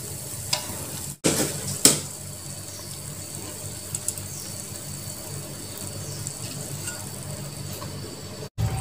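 Soft, steady sizzling of kue cucur batter frying in hot oil, quiet and continuous, with a couple of sharp clinks from utensils.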